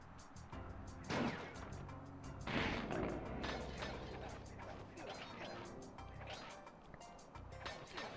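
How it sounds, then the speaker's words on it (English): Cartoonish fireworks burst repeatedly in the Sly Cooper video game, with several loud broadband explosions amid busy game music and effects, two especially strong bangs near the start. "these fireworks are yet another Spyro connection. You know, you hit them, they trace a wild and wacky path through the air and then explode on something"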